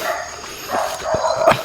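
Dog barking at strangers on a mountain at night, a few sharp barks spread across the moment, moderately close, over steady background noise.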